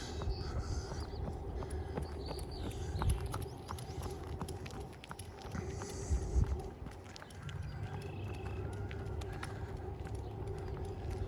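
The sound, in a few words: footsteps of someone passing from behind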